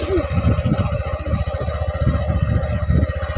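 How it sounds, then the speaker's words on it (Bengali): A motorbike engine runs steadily while riding past rice fields, a continuous low throbbing rumble with wind noise. No voices are heard. "আমরা কিন্তু বাইক চালিয়ে চালিয়ে ওই সামনে যাচ্ছি।"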